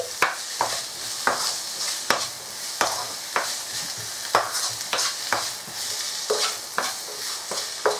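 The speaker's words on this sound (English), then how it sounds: "We're just going to stir that up so everything's mixed together nicely." Spoon stirring chicken and brown lentil curry in a pot, with repeated sharp scraping strokes against the metal over a soft sizzle, close and steady.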